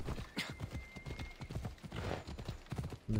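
Hooves clip-clop in a quick, steady rhythm as a horse is ridden in Assassin's Creed Odyssey, moderately close, with a faint whinny and a brief voice.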